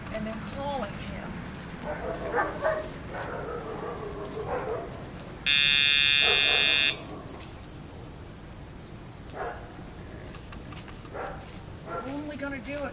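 A Dogtra remote pager sound box used for recall training a deaf Sealyham Terrier puppy gives one loud, steady electronic tone of about a second, amid outdoor ambience with a dog's brief noises and distant voices.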